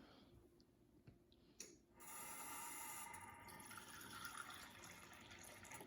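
Water pours into a one-cup measuring cup while making a strawberry whipped cream cake, a steady near splash that starts about two seconds in and runs to the end, with no talk over it.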